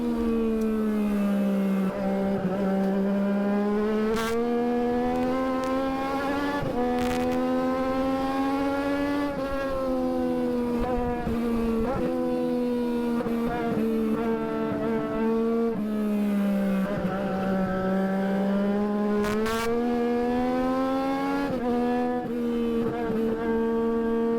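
Legends race cars howling around Thompson Motorsports Park in a close pack, engine notes rising and falling steadily through gear changes and corners, loud and continuous with overlapping cars passing close by.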